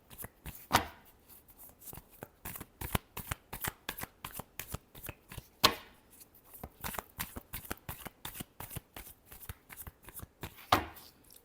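A deck of tarot cards is shuffled by hand in quick, rhythmic riffles and slaps, with a few sharper snaps standing out, close and clear with no talking.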